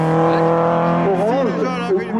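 Race car at the Hébécrevon hill climb in a round of the French mountain championship, engine holding a strong tone then bending in pitch as it passes close and loud, with a voice talking over it.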